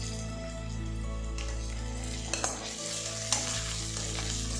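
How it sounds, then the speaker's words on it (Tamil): Onions sautéing in hot oil give a constant close sizzle, with a few scraping stirs of a spoon against the pan. "இப்போ இது எல்லாத்தையும் நல்லா வதக்கி விட்டுருங்க"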